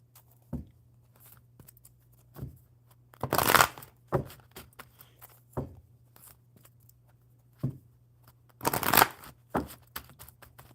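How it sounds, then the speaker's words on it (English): Enchanted map cards riffle and shuffle in short bursts, with taps and squaring of the deck between them, close and crisp against a faint hum. "All right, so for Shahu, we will shuffle the enchanted map cards for Shahu and see what happens."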